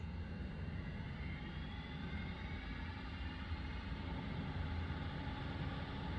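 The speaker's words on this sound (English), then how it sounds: "we're starting this MU2 here on the Microsoft Flight Simulator platform" A Mitsubishi MU-2 turboprop engine spools up during start in Microsoft Flight Simulator, a steady, faint broadband turbine rumble and whine with a slowly rising tone.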